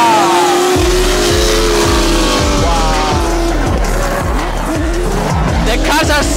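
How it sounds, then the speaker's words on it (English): Drift cars slide with loud, sustained tire squeal and revving engines, repeated rising and falling engine pulses under continuous screeching rubber, close and intense, with an excited voice over it. "The next sport is drifting!"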